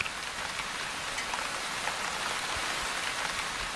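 Steady rainfall in a dry desert landscape, a soft continuous hiss of drops on the ground with scattered faint patters, even and unbroken throughout.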